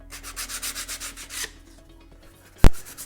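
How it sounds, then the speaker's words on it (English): Hand sanding with 220 grit sandpaper on a vambrace prop surface, a rhythmic series of close, even rubbing strokes that stops halfway through, followed by quiet and one sharp knock. "I'm just finishing up the surface with some of this 220 grit sandpaper"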